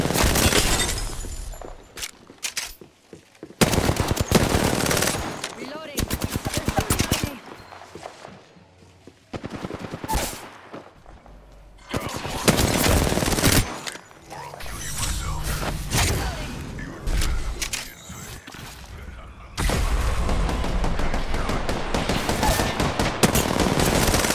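Rapid automatic gunfire and single shots from an Apex Legends match come in dense, loud bursts separated by short lulls, with impacts and clatter mixed in and game voice lines and player talk running over it.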